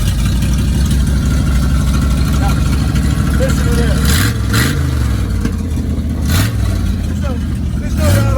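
A Ford F250 Custom with a 460 big-block V8 runs steadily with a deep, loud rumble, then climbs through several short rev blips, while someone talks over it.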